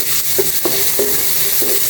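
Ginger sizzles in hot cooking oil in a pan while being stirred, a constant close hiss broken by short scraping stirs every few moments.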